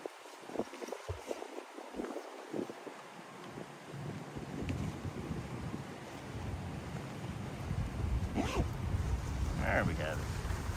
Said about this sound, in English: It's breezy here.